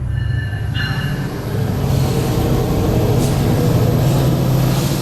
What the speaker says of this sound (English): Train right over our head. Heavy train.